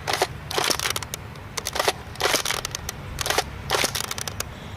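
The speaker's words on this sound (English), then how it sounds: "now we're shooting elite darts out of the Vintage Fastblast" A vintage Nerf Airjet Power Plus Fastblast toy blaster shoots elite darts: about five close, sharp bursts of air and plastic clatter come in quick, uneven clusters over a faint background hiss.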